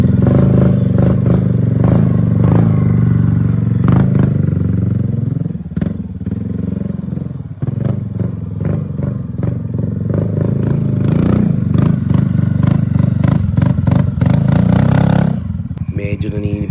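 Motorcycle with a stock pipe idling and revving loudly up close, with surges and dips in engine pitch and some mechanical clatter, while a voice talks over it.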